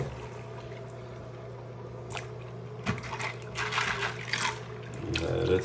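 Mechanical keyboard keycaps being rinsed in water, starting with a low background hum, then splashing and sloshing that grows louder and busier toward the end.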